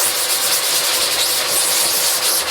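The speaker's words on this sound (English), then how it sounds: "First you want to agitate it by rubbing it in." Steady, close rubbing scrubs a cleaning product into a surface ahead of pressure washing, a continuous loud abrasive swish without pause.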